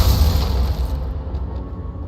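A Glacius ice spell cast in Hogwarts Legacy lands as a loud, deep booming burst with a rumbling low end, then fades into a duller roar for about two seconds. No voices are heard over it.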